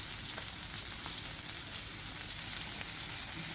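Butterflied shrimp grilling in a pan give off a steady, dense sizzle with crackling pops, close and continuous throughout.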